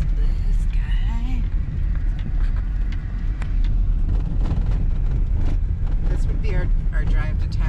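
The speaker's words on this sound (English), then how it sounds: "Our drive to town past the off-road course." A car drives along a road toward town in Nevada, its engine and tyre rumble loud and steady from inside the vehicle, with a person talking over it.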